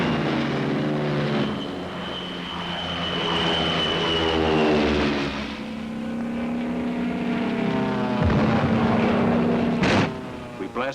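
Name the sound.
P-47 Thunderbolt fighter planes taking off from airfield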